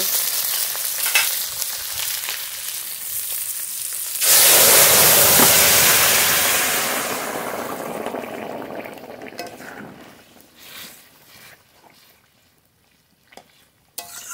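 Bata fish curry poured onto hot oil in a pan, starting as a low sizzle, then bursting into a loud hissing roar that slowly fades over several seconds, ending with a few faint clinks.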